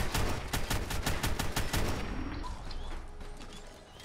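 An AK rifle in the video game Fallout 4 fires a rapid burst of about a dozen loud, close shots in a steady rhythm, then cuts off, leaving faint game ambience and small clicks.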